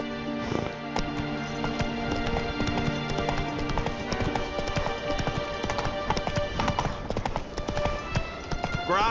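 Roach, the horse in The Witcher 3, gallops with rapid, steady clip-clop hoofbeats, close and continuous over dense in-game ambience and music.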